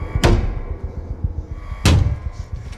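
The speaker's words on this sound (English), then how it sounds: "Fire suppression door." In a scene from the film Maze Runner: The Death Cure, a heavy fire suppression door slams shut twice, each a loud booming thud with a short metallic tail, over a low rumbling background.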